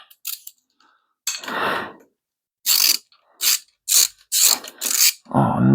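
A ratchet wrench clicks in short bursts while tightening bolts on a 5.7 Hemi engine build, close and loud, with pauses between strokes.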